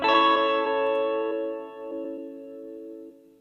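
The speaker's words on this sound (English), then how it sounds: "It's an Gretsch electromatic Western guitar sample" A single sustained chord on a Gretsch Electromatic Western electric guitar rings out with a bright attack and slowly fades away, alone and fairly quiet.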